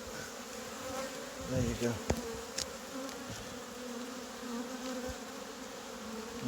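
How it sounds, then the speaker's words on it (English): A dense swarm of honey bees buzzes steadily while they pour back into the hive at an apiary, recorded close up from inside the cloud, with a few faint knocks and a brief spoken remark. "I'm stood in a cloud of bees."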